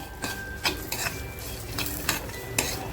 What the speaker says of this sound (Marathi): जे कडे मसाले घेतलेत ते टाकते म्हणजे तेही खमंग भाजले जातील